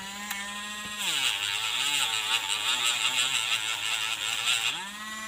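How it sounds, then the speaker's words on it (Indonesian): Small grinding machine cleaning the terminal of a lithium battery, a high whirring motor that spins up, dips in pitch as it bites the metal for several seconds, then winds back up when lifted. "saya akan menggunakan mesin gerinda supaya lebih cepat"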